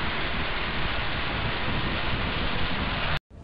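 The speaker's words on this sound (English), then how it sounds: "It is raining." Steady rain falls as an even, dense hiss of drops that holds at one level and then cuts off abruptly.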